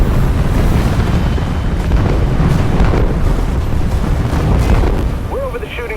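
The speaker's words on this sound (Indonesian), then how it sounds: "Terlihat banyak kapal dan pesawat pihak Amerika yang membombardir daerah tersebut." Loud, dense bombing explosions from a war film, American ships and planes bombarding an area, roll into one another as a continuous deep rumble, with a few sharper bursts and thin whistling tones near the end.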